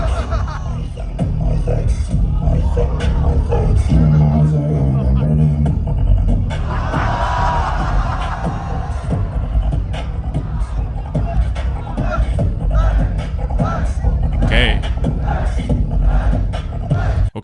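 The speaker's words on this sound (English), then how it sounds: "when I listen to the crowd POV version with headphones" A crowd cheers and roars at the Grand Beatbox Battle 2025 World League solo elimination, a loud continuous wall of shouting and hubbub with a beatbox performance and voices mixed in.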